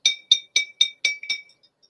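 Glass liquor bottle clinks six times in a steady rhythm, bright ringing taps up close, each decaying quickly, the last ones softer, with no talk over them.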